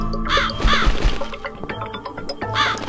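A crow caws several times in The Cat Lady video game, the harsh calls standing out over a dense, busy game soundscape.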